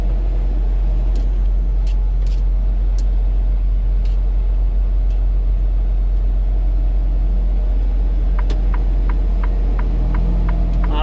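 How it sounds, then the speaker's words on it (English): A never-ending stream of cars drives past on a road in Layton, Utah, heard from a stopped delivery vehicle as a constant low rumble and hum, with faint repeated ticks on top. "This is a never-ending sea of fucking cars coming."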